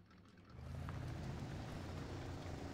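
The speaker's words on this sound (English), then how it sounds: "when you are just sitting here idling, it's got that little loping sound to it" A Chevrolet Blazer engine idles with a loping rumble in Spintires Mudrunner, low and steady after a quiet start, faint overall with no talk.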